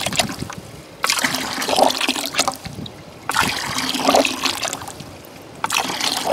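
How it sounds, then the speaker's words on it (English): Muddy water gushes from a hand-pumped shallow well in repeated surges, each spurt splashing for about two seconds before a brief pause, in a rhythmic pattern following the pump strokes, close up. "we're going to hand pump a bunch until this water gets a lot clearer"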